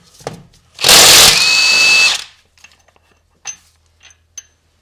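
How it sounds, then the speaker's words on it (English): Impact wrench rattling off an axle bolt during suspension work on a car: one loud burst of about a second, followed by a few faint clinks and taps. "I was able to remove it with the impact"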